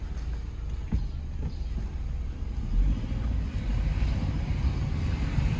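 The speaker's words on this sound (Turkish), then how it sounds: "Emniyet kemerimizi taktıktan sonra kısa bir test sürüşü yapacağız." A car on a short test drive along a quiet road gives a steady low engine and road rumble with wind buffeting, continuous and close, no talk.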